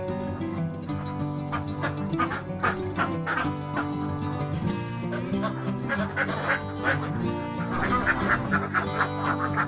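A dense flock of laying ducks quacks continuously on a duck farm, many overlapping nasal calls close and loud with no pause throughout.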